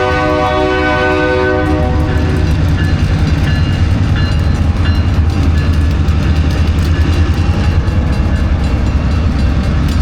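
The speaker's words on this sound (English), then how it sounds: "Let's watch the train." A Nittany and Bald Eagle railroad engine rolls past up close, loud and steady, with a horn sounding over the first couple of seconds and then rumbling wheels and rail noise throughout.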